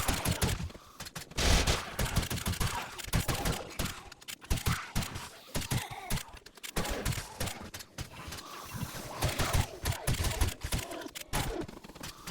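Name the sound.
shotgun firing in the video game 7 Days To Die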